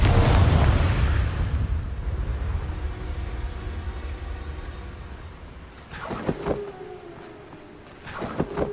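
The Confringo spell goes off in the video game Hogwarts Legacy with a loud, booming fiery explosion that rumbles and slowly decays, followed by a few sharper cracking bursts and impacts.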